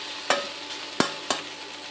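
Ground green chilli, ginger and cumin masala frying in a pan, a steady soft sizzle broken by three sharp scraping stirs of a spatula, close and alone with no voices.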